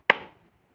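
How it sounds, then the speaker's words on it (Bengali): A coconut struck once to crack it open, a single sharp, loud chop-like crack that rings out briefly and decays, with no talking. "এখন নারকেলটাকে ফাটাতে হবে। ফাটাচ্ছি।"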